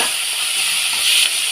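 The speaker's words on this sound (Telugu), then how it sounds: "ఫస్ట్ మెంతెం కూర వేసి ఇలా నూనెలో వేపుకోవాలి" Chopped fenugreek leaves frying in hot oil make a loud, continuous hiss that swells slightly near the end of the short stretch.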